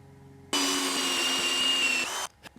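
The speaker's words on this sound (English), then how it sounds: "Just stick it in any drill I've got and cut out a 3/8 inch tapered plug" A power drill fitted with a plug cutter bores 3/8 inch tapered wooden plugs, spinning up abruptly into a loud, steady high whine for about a second and a half before cutting off, close and alone.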